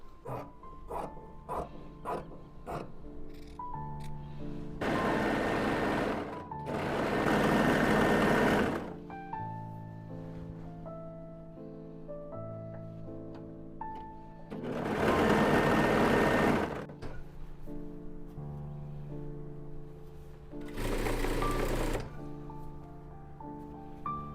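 A sewing machine stitching a narrow hem on a tablecloth runs in several loud sustained bursts separated by pauses, with quick clicks at the start and background music playing throughout.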